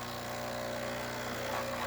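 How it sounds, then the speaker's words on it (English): A Breville Barista Pro espresso machine dispensing from its hot water outlet after a full tune-up gives a steady, even hiss and hum, close and continuous throughout with no break. "we're going to test the hot water function by twisting the knob"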